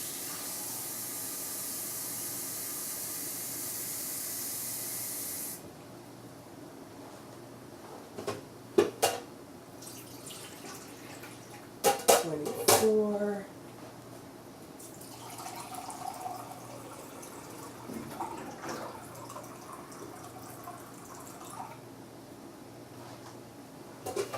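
Water pours in a bright, steady hissing stream over soaked coffee grounds in a cold brew maker, then stops. Scattered clunks, splashes and sloshing follow, with quiet pauses between.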